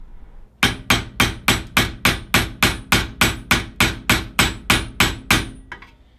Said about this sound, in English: I am using a chisel and a hammer to very slowly tap this bushing out.